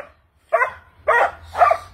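Happy dogs give three separate bursts of barking about half a second apart, clear and fairly close, with a low steady hum underneath and no talking.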